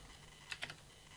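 A few soft, quick clicks of typing on a computer keyboard, faint and close against a quiet background hum.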